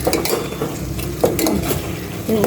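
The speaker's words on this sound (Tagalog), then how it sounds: "Isang halo-haloin po muna natin." Food being stirred in a frying pan: a utensil scrapes and clinks against the metal pan in quick, uneven strokes over a light sizzle, close and clear.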